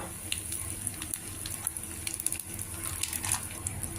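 Tempering of urad dal, cumin, mustard seeds and a broken dried chili with asafoetida fries in hot oil for a cluster bean and coconut curry, giving a steady close sizzle dotted with small crackling pops.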